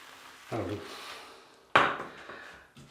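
A shaving brush works Bath House Spanish Fig & Nutmeg shaving soap in a wooden bowl, making two short hollow wooden knocks and scrapes separated by a quiet pause.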